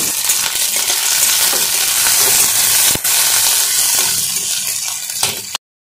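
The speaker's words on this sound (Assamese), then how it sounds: "পিঁয়াজখিনি ভালদৰে মই ভাজি ল'ম।" Chopped onions fry in mustard oil in a home kitchen while an Assamese fish-belly and brinjal dish is being made, a loud, continuous close sizzle broken by brief stirring scrapes, with no voices.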